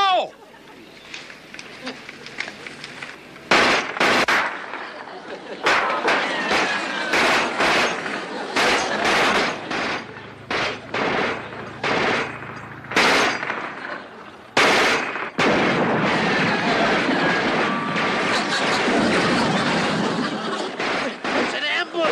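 Machine-gun fire crackles in sharp bursts during an ambush, loud and repeated with brief gaps between the volleys.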